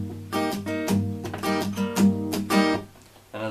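Acoustic guitar strummed in a palm-muted pattern, with a quick rhythmic run of damped chord strokes and brighter upstroke accents, played close and alone.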